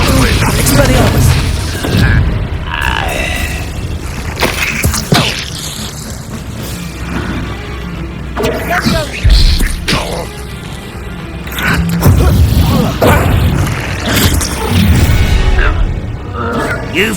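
Spell-casting combat effects in Hogwarts Legacy: repeated booming blasts, thuds and crackling impacts, loud and close, with spell names shouted and other voices speaking in between.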